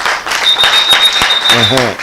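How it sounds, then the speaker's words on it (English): Studio audience clapping briefly on a radio-style talk program, a short loud burst of claps with a tonal whine and voices rising near the end. "Make we clap for him now, small."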